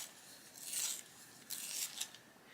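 A colored pencil is sharpened in a few quiet, raspy scraping bursts with short pauses between them, faint and close.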